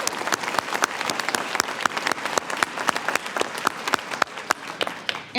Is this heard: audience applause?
yes